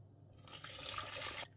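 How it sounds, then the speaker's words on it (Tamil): Water pours into a cup of ragi flour for halwa, a brief, steady splashing rush lasting about a second before cutting off, close and moderately loud. "அதே கப்பில் 2 கப்பு தண்ணி"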